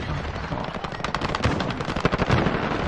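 Dense automatic gunfire in the Call of Duty Modern Warfare multiplayer game, a rapid burst of close shots running almost continuously through the whole moment.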